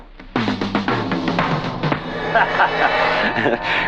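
A quick run of drum hits rolls across pitched toms, each stroke ringing briefly before the next, played close and fairly loud.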